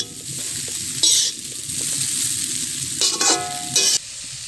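Chowmein with pepper and salt sizzles in a pan as it is tossed and stirred, with loud metallic scrapes and clanks of the utensil punctuating the hiss.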